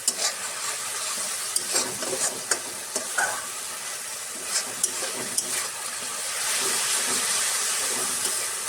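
Katla fish kalia masala with curd being sautéed and stirred in hot oil in a pan: a steady close sizzle with scraping spoon strokes throughout, no voices.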